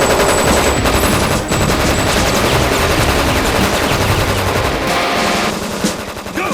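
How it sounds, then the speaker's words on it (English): Sustained loud automatic gunfire in the Black Lagoon anime, dense rapid bursts of machine-gun fire with no pause, close and dominant, laying down suppressive fire. "Wright and Horner, lay down suppressive fire."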